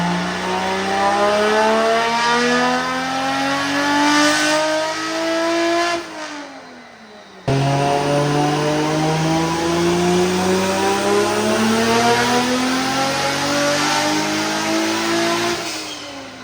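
R32 GTR engine revving on a dyno with boost turned up, loud rising pulls that climb steadily in pitch, a brief drop to idle midway, then another long full-throttle pull building to high revs.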